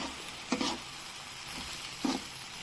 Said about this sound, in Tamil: நாம் இந்த பாஸ்தாவை இப்போ கலக்க போகிறோம்